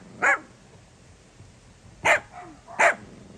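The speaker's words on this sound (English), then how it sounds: "Look at this little guard dog." A little guard dog barks three times, sharp and close: one bark, a pause of nearly two seconds, then two more in quick succession.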